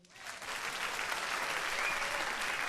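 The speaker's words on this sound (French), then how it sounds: "j'aimerais vraiment qu'on l'acclame comme il le mérite" A ceremony audience gives Jean-Paul Belmondo sustained applause at the 23rd Lumières awards, a dense roar of clapping that swells quickly and holds steady, with faint voices mixed in.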